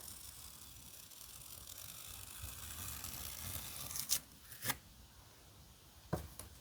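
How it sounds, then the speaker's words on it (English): Masking tape is pulled off its roll for a kids' painting project, giving a few short, sharp ripping sounds near the end over a faint hiss of background noise. "Here comes the masking tape."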